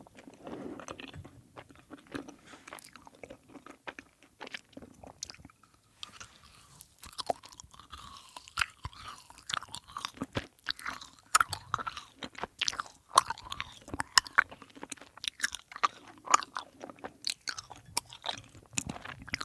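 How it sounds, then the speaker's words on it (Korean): Close, crunchy chewing and biting on Sodama marshmallows, with many sharp, irregular bites and soft mastication, recorded very near the microphone and heard alone without talk. "소다마 마시멜로우 맛있다"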